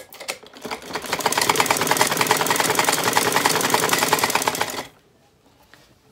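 An electric sewing machine runs a straight stitch to sew elastic into a legging waistband, a fast even mechanical clatter that continues for several seconds before stopping abruptly.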